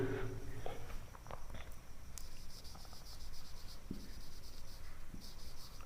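A pen scratches faintly across paper in short, irregular strokes over a quiet room hum, soft and close, with small taps and pauses between words.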